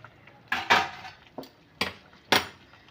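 Metal utensil knocking and scraping in a pan while stirring steamed prawns (chingri bhapa), a handful of sharp separate clatters spaced irregularly, close and fairly loud with no talking.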